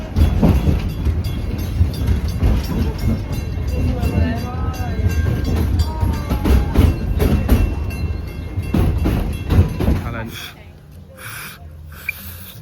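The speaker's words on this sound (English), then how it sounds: "Let's go get on the train." Steady rumble and rhythmic clatter of a moving train on rails at Disney's Animal Kingdom with voices mixed in, dropping quieter near the end.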